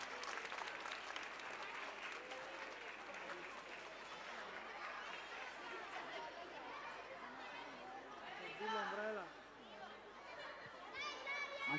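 Audience clapping steadily through an ice skating gala in an arena in Covo, Italy, with crowd chatter and children's voices mixed in, swelling briefly near the end.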